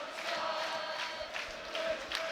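A football crowd at a Wrexham versus Charlton Athletic match sings to serenade Paul Mullin, a distant massed chant rolling steadily from the stands.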